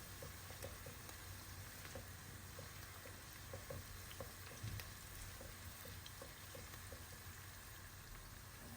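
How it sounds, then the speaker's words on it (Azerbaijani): Diced hot pepper and bell pepper frying in a pan, a quiet, steady sizzle with faint crackles and occasional soft ticks, heard alone without talk. "Onu əlavə edib ikisini birlikdə biraz qovururam."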